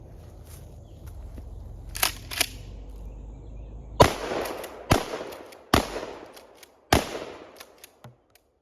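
A short-barreled Remington 12 gauge shotgun fired at three targets outdoors: two softer early pops, then five sharp loud blasts spaced about a second apart, each with a ringing decay.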